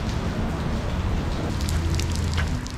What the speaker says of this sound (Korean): 오랜만에 빗소리를 영상에 담는다.